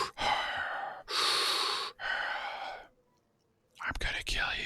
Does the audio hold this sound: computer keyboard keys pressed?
no